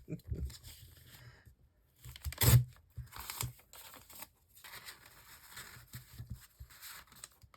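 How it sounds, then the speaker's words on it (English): Sheets of paper are ripped by hand for a satchel craft, one sharp tear standing out among quieter rustling and crinkling, in a calm room with little background noise. "No, we're going to rip them to size."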